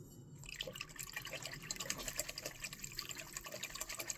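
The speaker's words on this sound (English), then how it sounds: "gotta rinse that brush out good" A paint brush swished and rinsed in a water container, producing continuous close splashing and trickling with small rhythmic sloshes for a few seconds, no voices.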